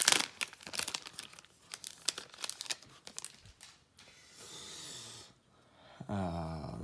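Foil wrappers of 2019 NBA Hoops Premium Stock hobby packs being torn open up close, with bursts of sharp crinkling and tearing, brief pauses between rips, and a longer rustle of handled packaging toward the end.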